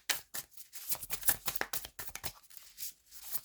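Tarot cards being shuffled by hand: a run of quick, crisp riffling bursts and soft slaps, close and moderately quiet, with no talking.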